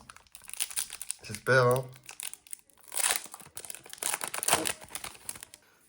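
Foil booster packs from the Pokémon Team Rocket card set crinkle and tear in short, close bursts, with a person speaking briefly between them.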